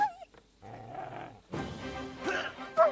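A dog in the medieval role-playing game Kingdom Come: Deliverance 2 yips and whimpers with short bursts of barking, heard close over game music and ambience.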